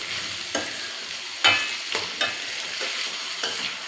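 Chayote chutney sautéing in a pan, a steady close sizzle with a few brisk scraping stirs of a spoon, no talking.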